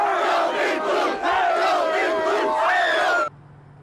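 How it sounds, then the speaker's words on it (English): Basketball fans roar and cheer in a downtown Lexington street after the Cats' Final Four win, a loud dense crowd of shouts and whoops sustained for about three seconds before cutting off abruptly. "cheering erupted over the Cats making it to the Final Four"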